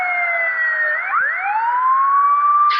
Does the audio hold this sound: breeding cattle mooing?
no